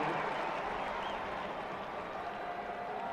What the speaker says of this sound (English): The crowd's excited about it